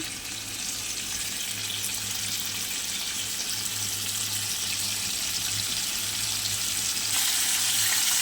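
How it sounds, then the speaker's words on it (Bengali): Continuous hissing sizzle of fish head frying in a pan, even and close, with no voices. "মাথা বেশ ভালো করে ভাজা হয়ে গেছে"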